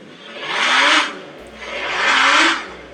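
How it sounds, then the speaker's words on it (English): A Carrera Hybrid RC car revs its electric motor twice. Each rev is a rising whine that swells and fades, up close, with no voices. "if you hold in this little sucker here and give it a rev"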